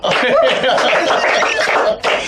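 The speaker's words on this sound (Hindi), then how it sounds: "जोरदार तालियां" Loud applause during a live Hindi prank-comedy show, a dense, steady wash of many hands clapping close by with some laughter mixed in, cutting out briefly near the end before resuming.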